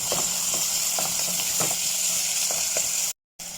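Onion and chicken cubes frying in a pan, with a steady loud sizzle and a few soft stirring scrapes, briefly cutting out near the end.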